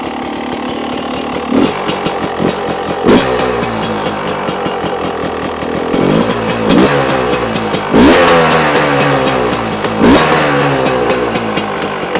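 A 2026 Beta 300 RR X-Pro motorcycle engine runs loud and close throughout, idling with a steady buzz and rising into several sharp revs, roughly one every two seconds, with no talking.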